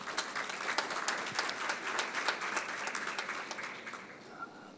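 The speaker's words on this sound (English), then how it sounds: "Round of applause for both of these gentlemen, please" An audience at a critical minerals and sustainable mining conference applauds two speakers, a dense burst of clapping that slowly thins out and fades toward the end.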